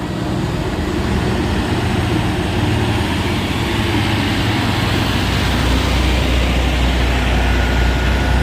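A truck trailer's heavy diesel engine labours steadily up the Bukit Kodok hill, producing a loud, continuous low roar and rumble for the whole stretch, with no talk.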